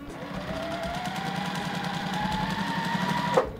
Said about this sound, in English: When you take your two pieces, put them together, you want to sew directly across.